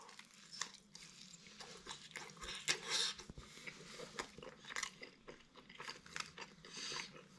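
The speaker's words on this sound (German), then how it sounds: "Wir falten sie mal einmal zusammen und beißen nochmal rein." Quiet, close crunching and chewing from bites into a folded thin-crust frozen four-cheese pizza, with soft irregular crisp crackles and mouth sounds spread over several seconds.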